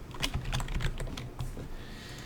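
Rapid keystrokes on a computer keyboard while entering a number into a Godot 3.1 game editor, a close, steady burst of clicking taps with no talking.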